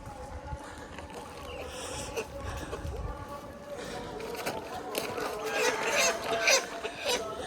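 Chickens cluck and squawk nearby in an Assam village with bamboo thickets, amid outdoor rustling and movement, the bird calls coming in irregular bursts that grow busier toward the end.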